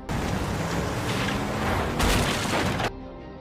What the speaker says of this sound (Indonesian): Mendengar suara ledakan